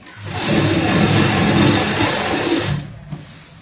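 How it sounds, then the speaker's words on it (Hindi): A sewing machine stitches bed sheet fabric, running in one steady, loud, close whirring burst for about two and a half seconds before stopping, with no voices. "अब हम तीसरी सिलाई लगाएंगे यहाँ पे"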